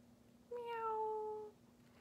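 A single clear kitten meow, drawn out for about a second with a rising then level tone, close and alone over quiet background.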